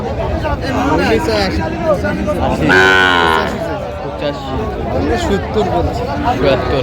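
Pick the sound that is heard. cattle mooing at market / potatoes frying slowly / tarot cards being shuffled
cattle mooing at market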